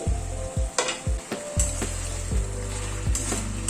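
Chicken sautés in a pan with spices over a medium gas flame, giving a steady loud sizzle punctuated by regular dull thumps and scrapes of stirring.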